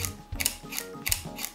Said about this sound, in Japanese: またシャッター音が違いますよね。